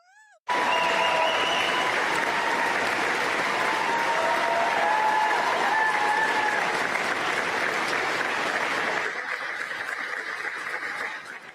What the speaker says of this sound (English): He's just solemn applause. Respectful applause, guys.